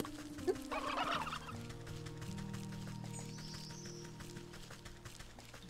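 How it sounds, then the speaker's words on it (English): Turkeys gobble in the video game Wytchwood, a quick burst of rapid gobbling calls near the start followed by quieter game ambience and a faint high chirp, all at low volume. "Oh, I hear you, turkeys."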